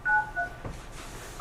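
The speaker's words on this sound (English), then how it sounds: "Somebody's joining our meeting. They're on the phone." Telephone keypad tones as a caller dials into a public county commissioners' meeting: a short run of steady DTMF beeps, fairly clear against a quiet room, with a brief bump of noise midway.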